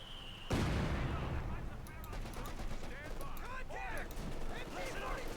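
Sustained gunfire pins down a rifle squad in the strategy game Company of Heroes 2, a sudden loud burst of shots followed by continuous mixed weapon fire and battle noise, with a voice commentating over the top.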